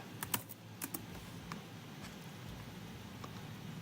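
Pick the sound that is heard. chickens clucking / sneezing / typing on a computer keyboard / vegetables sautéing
typing on a computer keyboard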